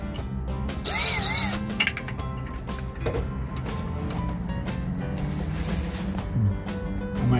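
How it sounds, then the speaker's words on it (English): A handheld power drill drives screws to mount an RV ladder assembly, whirring in short bursts with ratcheting clicks between pauses, close by and moderately loud. "Now, here's my little handy drill."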